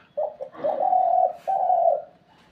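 A trained decoy dove coos close by, with one short note followed by two long, steady, mellow coos in a quiet setting.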